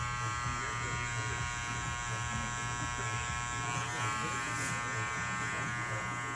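Andis Cordless Master hair clippers run with a steady, close electric buzz and a strong motor hum that stays constant throughout.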